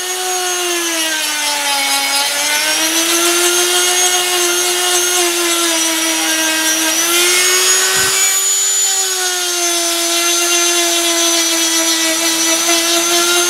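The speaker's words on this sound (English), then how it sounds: "let the rolling Dremel do the work, and it all marries in perfect" A Dremel rotary tool whines steadily while shaping a wooden slingshot board, holding a high sustained pitch that wavers slightly under load and dips briefly midway before resuming.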